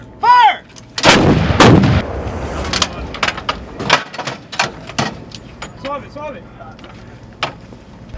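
A howitzer firing during artillery training, one sharp, heavy blast followed by rumbling echoes, with soldiers shouting commands before and after.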